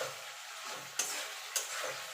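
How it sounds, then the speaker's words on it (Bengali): Shankar fish pieces and potatoes stir-fried in a pan for a Bengali curry, a soft steady sizzle with two sharp scrapes of the spatula, fairly quiet and with no talking. "এবার আলুর সঙ্গে আরও মিনিট খানিক কষিয়ে নেব।"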